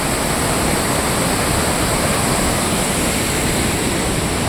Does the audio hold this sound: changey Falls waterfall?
yes